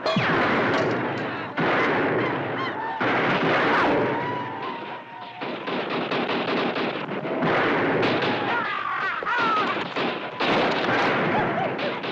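Dense rapid gunfire from a Western shootout in a mining town, with loud overlapping shots and booming volleys in continuous bursts over about twelve seconds, close and chaotic.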